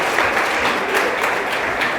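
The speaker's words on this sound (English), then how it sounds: "Round of applause for Leonard!" Steady, dense applause from a crowd, clapping continuously at an even level for the whole stretch, with no voices standing out.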